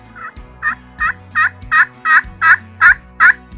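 A turkey pot call imitating a turkey, a run of nine short, rising yelps in an even rhythm that grow louder, close and alone with no talking.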